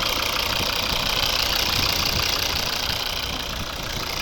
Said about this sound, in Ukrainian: Ось ну, робота двигуна.